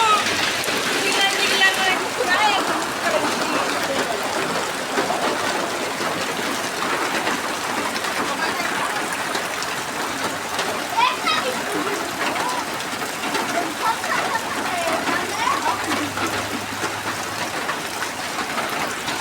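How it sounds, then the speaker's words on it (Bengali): Sudden heavy rain falling outdoors by a kitchen, a constant loud rushing patter of drops on surfaces, with a voice talking faintly beneath it at times. "হঠাৎ বৃষ্টি দেখুন"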